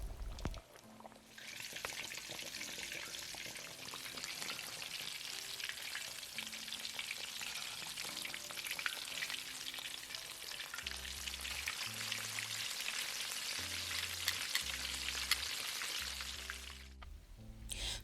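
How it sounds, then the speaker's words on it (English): Chicken pieces sizzle and crackle steadily in hot oil on a stovetop set to medium heat, a dense, continuous frying hiss held at close range, with a few low clunks of handling near the end and no talk. "gently and carefully immerse a chicken piece in at a time and fry until it starts becoming crunchy on the outer layer"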